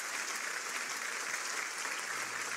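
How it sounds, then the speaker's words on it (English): An audience at a rally applauds after a keynote address, a steady, even round of many hands clapping at fairly low volume, with no voices over it. "please join me in giving another round of applause to the Right Honorable Stephen Harper"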